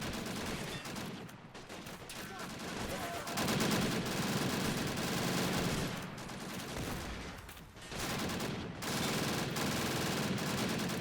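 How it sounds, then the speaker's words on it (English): Two BAR automatic rifles hammer out sustained fire amid a World War II firefight in Men of War: Assault Squad, with long dense bursts broken by brief pauses and other weapons crackling in the background. "Two BARs laying down some serious fire"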